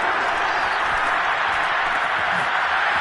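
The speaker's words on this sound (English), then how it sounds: "One of the bigger plays in the game thus far, and the crowd getting into it as we come up on a big 3rd down." Stadium crowd in a Madden NFL football game makes a dense, continuous roar of cheering and applause at steady high volume, with commentary-style talk mixed in.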